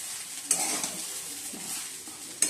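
Fried rice seasoned with ground pepper is stirred in a pan, a soft continuous sizzle with scraping strokes and two sharp utensil clinks near the start and end, close by with no talking.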